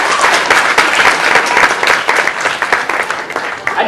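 An audience at a magic and mentalism show at UW Fox Valley breaks into dense, sustained applause for a volunteer, steady and loud throughout with no break.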